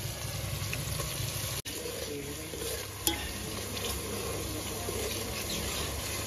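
Garlic and onions sizzle in hot oil in a pan for a corn curry, a steady close frying hiss with occasional stirring clinks, a voice speaking faintly under it.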